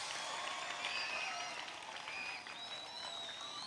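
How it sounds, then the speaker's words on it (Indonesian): Applause from a school audience for Aqobah International School at a grand opening ceremony, a steady, fairly faint wash of clapping that fills the whole moment with no voices on top. "Tepuk tangan untuk AIS."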